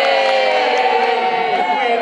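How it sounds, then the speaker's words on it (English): Spectators at a Crufts dog display cheer and shout together in a loud, sustained roar inside a large arena. "Let's have a cheer then."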